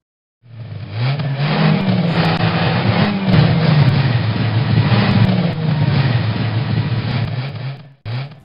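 A toy F1 Formula car makes a steady high-pitched revving engine sound that rises and falls in pitch for several seconds, then cuts off before a brief restart.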